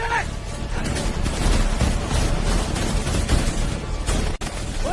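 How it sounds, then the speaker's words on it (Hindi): Dense, continuous bursts of gunfire with rumbling booms, loud and chaotic, like a heavy firefight close by. "सामने से गोली चल रही है।"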